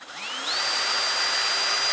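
A power drill winds up from a standstill into a steady, loud high-pitched whine, churning thick shower waterproofing compound in a bucket; the motor is straining and overheating.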